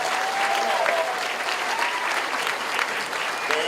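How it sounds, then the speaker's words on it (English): A crowd at a high school senior scholarship night applauds honor graduates with distinction, a dense, steady wash of many hands clapping at full volume that holds without a break. "Please join me in giving these honor graduates with distinction a round of applause."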